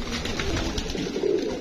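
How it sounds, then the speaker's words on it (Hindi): Pigeons coo softly and repeatedly at close range, a low murmuring chorus of several birds over a continuous background hum. "सारे कबूतर आप देख रहे हैं माशाल्लाह जबरदस्त कबूतर"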